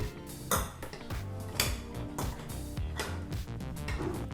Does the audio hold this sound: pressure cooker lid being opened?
yes